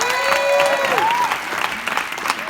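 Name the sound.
audience applause for a DJ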